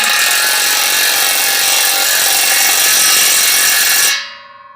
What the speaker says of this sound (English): I'm using a cordless impact wrench and a socket.